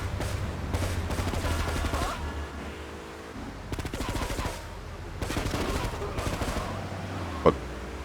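Gunfire in GTA Definitive Edition during a drive-by, with repeated bursts of rapid shots and fusillades over a low engine rumble, one sharp loud crack near the end.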